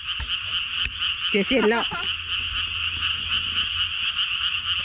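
Frogs croaking at night in Korea, a dense, continuous chorus of rapid trilling calls that holds steady throughout, with a brief voice speaking over it near the start.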